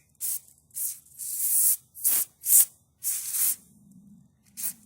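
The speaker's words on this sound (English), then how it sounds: "So we got some white lithium grease. We're going to make a mess with that." White lithium grease sprayed from an aerosol can onto the wiper linkage of a Ford Econoline, seven short hissing bursts of varying length with quiet gaps between, close and fairly loud.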